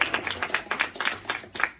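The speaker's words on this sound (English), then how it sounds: "So give her a round of applause." A small group in a community meeting room claps briefly, a handful of scattered, uneven hand claps at close range with no speech.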